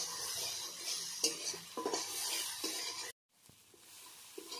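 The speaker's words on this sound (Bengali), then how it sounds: "মশলাটা আবারও ভালোভাবে কষিয়ে নেব।" Spice masala for a vegetarian prawn-style curry sizzles softly in a pan while a spoon scrapes and stirs it. The sound is faint and steady, drops out briefly, then returns quieter with a few light scrapes.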